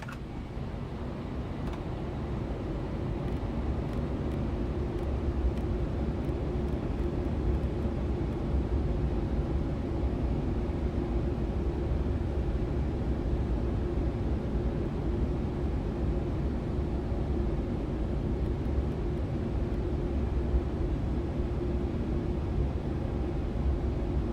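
An airliner approaches to land with gear down and flaps at 15, heard as a steady, even roar of broadband cabin and engine noise that stays constant and moderately loud throughout, with no voices.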